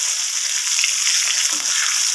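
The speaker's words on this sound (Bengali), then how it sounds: "পটলগুলোকে ভালোভাবে আমি ভাজা ভাজা করে নেব" Pointed gourd (potol) fries with turmeric and salt in a pan, a loud, dense and even sizzle held close for a couple of seconds, with no speech.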